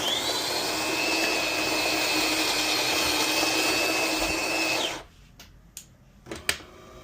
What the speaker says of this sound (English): Alright, so the machine is ready. Let's make a coffee.